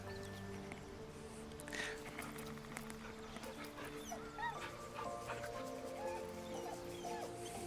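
A puppy in Baldur's Gate III whimpers and yips softly as it is petted, faint little whines over a quiet sustained game music bed.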